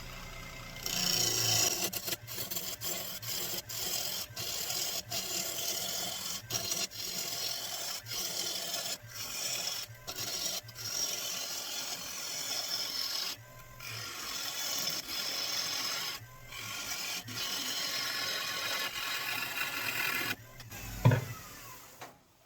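Wood being turned on a lathe while a corner is rounded off, a steady scraping, rasping cut heard up close and alone, broken by brief pauses and a sharp knock near the end.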